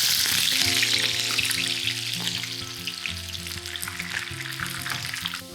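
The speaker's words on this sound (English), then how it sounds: "Salt helps it fry faster, but not necessarily crisper." Chicken pieces for Awadhi korma fry steadily in a pan, a dense, close sizzle running throughout with soft crackles, while a low melodic background tune plays underneath.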